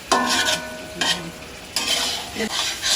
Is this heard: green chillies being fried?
yes